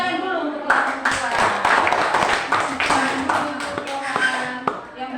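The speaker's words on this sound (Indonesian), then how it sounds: "Tepuk tangan dulu untuk kelompok kedua." A group of teachers in a classroom clap their hands in uneven, rhythmic bursts after a group presentation, close and fairly loud, with voices talking over the clapping.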